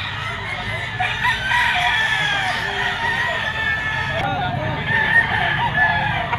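Gamefowl stags and bull stags crow repeatedly at a busy rooster market, with several overlapping calls close by over a bed of crowd noise and clucking.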